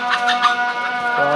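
Chickens give soft, repeated clucks inside their coop, close and fairly loud over a faint background hum.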